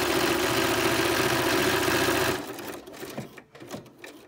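A sewing machine stitches a seam toward a corner with a loud, steady mechanical hum and clatter, then stops abruptly, leaving quieter handling noises of fabric being adjusted.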